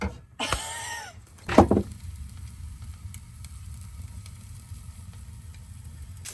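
Brown trout in salted butter sizzling in a pan at a riverside truck camper: a quiet, steady crackle follows a sharp scrape and a thump, with faint ticks throughout.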